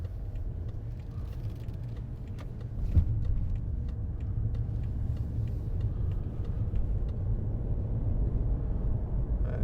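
A 2015 BMW 5 Series 535d Luxury four-door with a 3.0 diesel engine drives along, its low, even engine and road rumble steady throughout, with one brief thump near the start.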